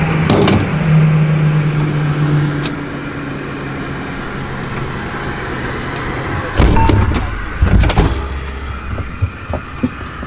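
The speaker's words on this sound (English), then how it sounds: "the main cabin door is now closed." A jet's main cabin door thuds shut inside a semi-private JSX plane, two heavy clunks standing out over a steady cabin hum and hiss.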